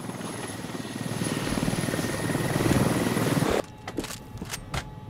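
A helicopter's rotor thumps and engine whine swell steadily in the Squad military shooter, loud and building, then cut off abruptly, leaving sparse clicks and faint game noise.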